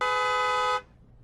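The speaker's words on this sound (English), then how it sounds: "Looks like my horn honking got the attention of..." A car horn blares in one sustained, loud, brassy honk lasting under a second, then cuts off sharply into quiet background.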